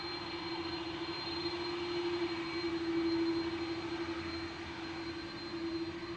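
A jet airliner departing for Detroit on a windy day at Amsterdam Schiphol gives off a steady, moderately distant engine roar with a sustained tonal whine, holding fairly even throughout.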